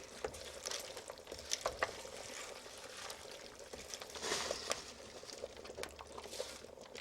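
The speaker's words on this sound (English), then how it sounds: "So we just stir the spinach in until it completely wilts." Spinach being stirred into a pot of Portuguese caldo verde soup, soft scraping and wet rustling with light sizzle and occasional spoon clicks, faint and close, no voices.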